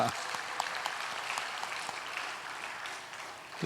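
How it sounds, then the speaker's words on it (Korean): A church congregation breaks into sustained applause for two young missionaries, a dense crackle of many hands clapping steadily through the hall, rising again at the end. "우리 감사의 박수 드리겠습니다."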